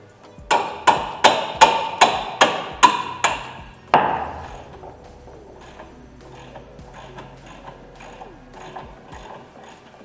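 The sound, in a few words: hammer tapping on brake caliper bracket bolts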